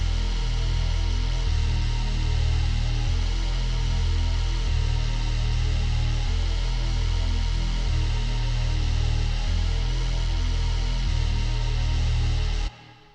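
A booming 808 bass run through Fruity Blood Overdrive in a rage and black metal style beat, thick gritty low notes pulsing in a steady pattern under a dense, harsh wash, loud throughout and cutting off at the end.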